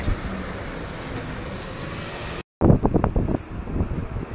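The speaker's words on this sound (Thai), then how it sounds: "ลมแรงๆบนดาดฟ้า" Strong wind on a sunny rooftop buffets a phone microphone (Nokia Lumia 630) as a steady broadband roar, cut by a brief dropout, then returning in gustier, uneven bursts.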